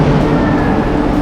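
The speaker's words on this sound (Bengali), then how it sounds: "ট্রেন ঢুকছে শিয়ালদা হাসনাবাদ লোকাল।" A Sealdah–Hasnabad local train rolls into a busy station platform, producing a loud, continuous low rumble and rattle of wagons up close.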